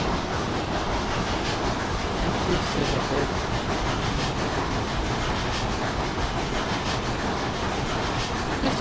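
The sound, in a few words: train starting to move in video game Railroads Online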